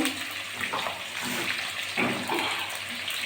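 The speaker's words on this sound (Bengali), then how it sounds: "সাদা তেল দিয়েছি গরম হয়ে গেছে আর আমি এখন আলুগুলো ভেজে নেবো লাল করে" Potato pieces fry in hot white oil in a pan, giving a steady, bubbling sizzle with small surging bursts, close and moderately loud, with no talking.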